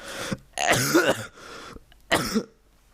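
Several harsh coughs from a person with Covid come close up, a burst, a longer rough fit, then a final cough trailing into quiet.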